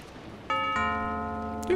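A doorbell in the video game Lucius rings out as a clear two-tone ding-dong with sustained ringing tones, alone and close.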